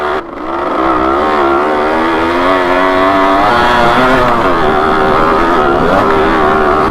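An old off-road motorcycle is ridden up a rough hill track, its engine a loud, continuous whine that rises and falls as the throttle shifts, with no talking over it.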